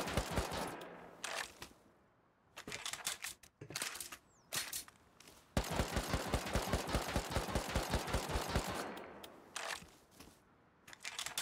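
Bursts of automatic gunfire in Rust during a raid, with rapid rhythmic shots in several volleys separated by short pauses, the longest sustained burst coming midway, loud and close.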